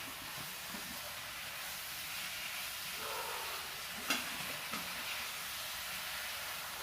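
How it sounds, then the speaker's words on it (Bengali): Cooking ingredients stirred slowly in a pan, a quiet steady hiss of frying with a few soft scrapes and taps. "এবার সমস্ত উপকরণগুলোকে আমি আস্তে আস্তে নাড়িয়ে নেব।"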